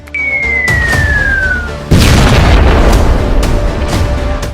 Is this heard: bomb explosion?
yes